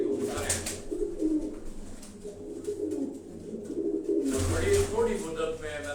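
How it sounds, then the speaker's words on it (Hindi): Sialkoti pigeons coo repeatedly on a Karachi rooftop, their low, soft calls rising and falling in bursts close by, with someone talking over them at times. "मोस्टली कबूतर जो है ये सियालकोटी कबूतर हैं"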